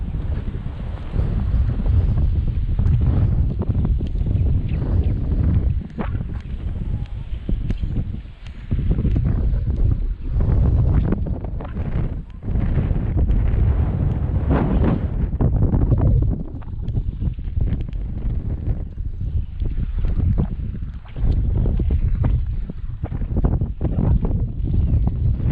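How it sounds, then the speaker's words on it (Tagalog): Strong wind roars and buffets the microphone on a small fishing boat out at sea, steady and loud throughout with gusty surges and faint water movement beneath. "Mahangin na dito."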